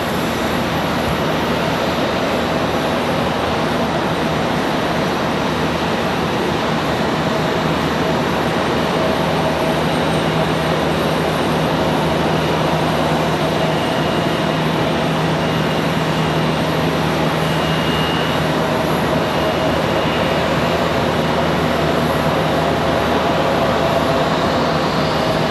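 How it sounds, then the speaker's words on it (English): Airliner heading out for departure at Charlotte Douglas airport, a loud, constant jet rumble and hiss with faint tonal whines, unbroken for the whole stretch and free of voices. "That one headed out for departure."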